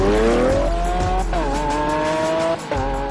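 A Lamborghini Aventador LP 700-4 with its 691-horsepower V12 accelerates hard nearby, its engine note rising steeply through gears with brief breaks at each quick paddle shift, loud and without talk.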